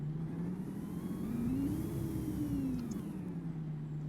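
Volvo Olympian bus in OMSI 2 with a steady mid-pitched engine drone that rises slightly then settles back, continuous and fairly quiet with no talk.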